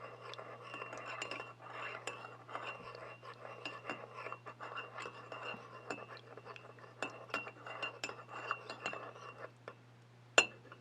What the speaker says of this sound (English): take a different spoon that doesn't have coffee grinds all over it, and just stir this all together